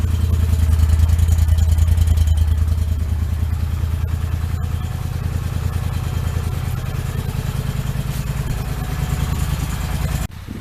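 A vehicle with a slightly weak battery idles after a cold start in snow, putting out a steady, loud, low rhythmic rumble with light clatter before cutting off near the end.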